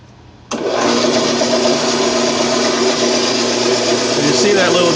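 A band saw motor starts abruptly and keeps running with a steady, loud whir, its old tires just removed and wheels showing slight runout, the hum holding evenly to the end.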